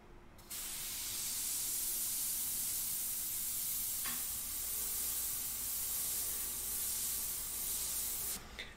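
An airbrush sprays a light paint mixture onto a portrait, a continuous loud hiss that starts abruptly, holds steady for several seconds with one brief tap midway, and cuts off near the end.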